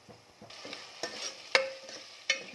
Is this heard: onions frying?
yes